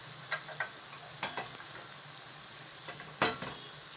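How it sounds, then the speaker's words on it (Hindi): Masala and tomatoes fry in a pan with a soft, steady sizzle, broken by a few sharp scraping stirs; quiet and close, with no talking. "मैंने अब मसाले को अच्छी तरह भून लिया है।"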